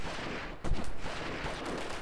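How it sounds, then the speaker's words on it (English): Gunfire in the Delta Force video game, a burst of shots beginning sharply partway through and continuing as dense, loud rattling over a constant noisy battlefield background. "Now who's shooting at me?"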